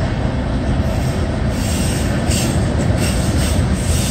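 Two CSX freight trains meet on the Toledo Sub in Sidney, Ohio on a very cold day, a loud, continuous rumble of rolling cars with wheel squeal and faint clickety-clack, heard from close overhead without any voices.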